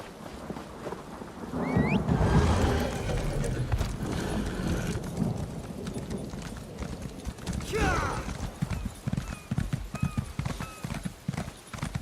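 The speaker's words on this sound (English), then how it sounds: "the thunder sounds amazing" Rumbling thunder rolls through a stormy scene in The Elder Scrolls Online, mixed with rain and the clip-clop of hooves from a horse, continuous and fairly loud.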